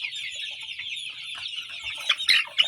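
Sonali chickens on a poultry farm give a dense chorus of clucks and chirps close by, with a few sharper, louder calls near the end.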